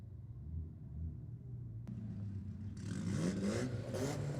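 A Volkswagen and a Nissan rumble at a drag strip, engines distant and low before revving rises and grows louder toward the end.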